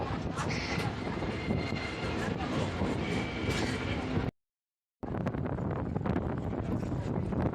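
Inside a passenger train on a regional Indian line through Namakkal, steady rumbling carriage noise mixes with wind buffeting. The sound drops out for a moment, then carries on with faint voices in the background.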